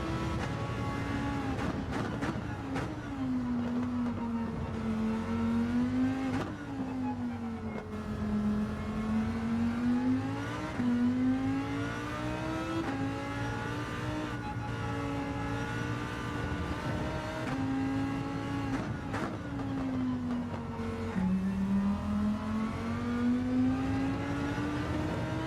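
Lamborghini Huracan Gr3 race car on the Lago Maggiore circuit in a racing video game, its engine droning and rising and falling steadily through gear changes, loud and continuous with no talk.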